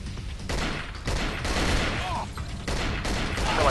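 Gunfire from a weapon in the video game Cold Fear rattles out as dense, rapid bursts, loud and close, continuing almost without pause.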